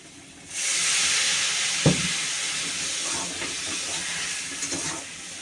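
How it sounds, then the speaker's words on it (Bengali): Spice paste of chilli powder frying in a pan as a little water goes in, a sudden loud hissing sizzle that settles into steady steaming crackle, close, with a few brief clatters. "একটু জল দিয়ে কষি"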